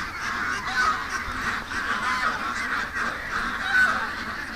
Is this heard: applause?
no